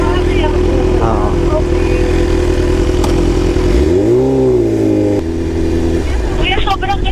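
Motorcycle carrying a passenger, a loud steady engine drone close by that dips and surges as the rider revs, with people talking over it.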